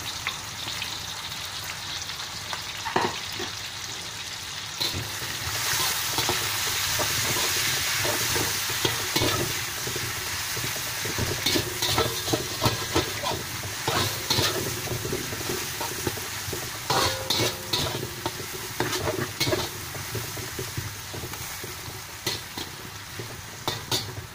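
Onions sizzling in hot oil in a pan while being stirred for sambal tumis, a steady close frying hiss broken by repeated scraping stirs over about twenty-four seconds.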